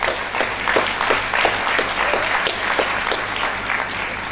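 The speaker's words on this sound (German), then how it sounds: "Das ist, glaube ich, auch nochmal ein Applaus wert." Audience at a film festival award ceremony in Oldenburger Münsterland breaks into steady, dense applause, many hands clapping continuously at close range for the whole stretch without pause.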